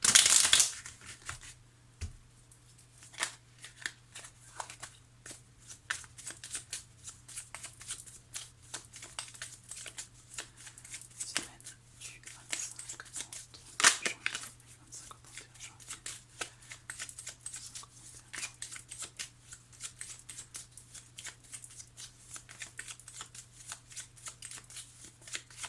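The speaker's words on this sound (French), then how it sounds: "Je vais prendre 3 cartes du Line of Love ici" Tarot cards being shuffled and drawn at close range, with a brisk riffle at the start followed by many soft taps, slides and flicks of cards over a faint steady hum.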